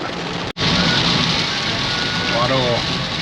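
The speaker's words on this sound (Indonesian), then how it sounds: "Hujannya deras banget." Heavy storm rain pours steadily on a car carrying travellers on a road trip from Bandung to Jepara, a dense continuous hiss, loud and close, briefly cut off for an instant near the start, with a voice speaking faintly under it.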